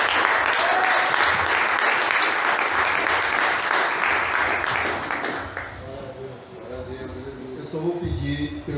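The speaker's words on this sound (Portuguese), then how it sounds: "Os irmãos aplaudem o Senhor." A church congregation applauding together, loud sustained clapping that fills the first half and then fades as a voice begins speaking over the dwindling applause.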